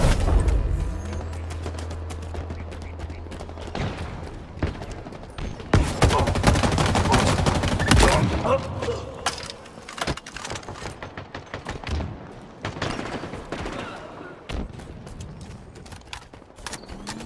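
Gunfire in a Halo Infinite live fire exercise: dense bursts of automatic weapon fire and sharp shots, loud and close, with mechanical clanks and brief pauses between volleys.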